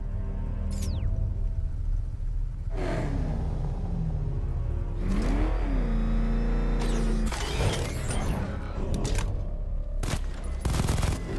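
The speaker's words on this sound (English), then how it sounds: "The chain gun's not powerful enough." A chain gun fires in a heavy action scene from the game Batman: Arkham Knight. Loud, dense rapid gunfire and mechanical whirring mix with vehicle revving and booming impacts throughout.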